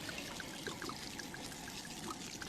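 Red wine pours steadily into a cooking pot, a soft continuous trickle and splash, faint and close with no voices.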